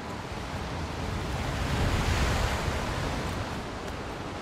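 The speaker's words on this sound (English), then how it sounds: "Oh, the water's just getting rougher." Rough ocean water churns in the game Still Wakes the Deep: a broad, loud roar of surf and wind that swells and recedes steadily, with no voices.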